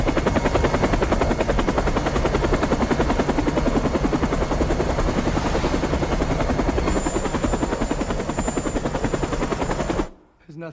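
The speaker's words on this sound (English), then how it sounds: "I need a chopper. Now!" A helicopter in an action film thunders close and loud with a steady, rapid rotor chop for about ten seconds, then cuts off abruptly.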